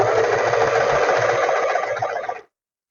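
A sewing machine runs in one steady, fast whirring burst while stitching a seam on trousers beside the pocket, then cuts off abruptly, leaving silence.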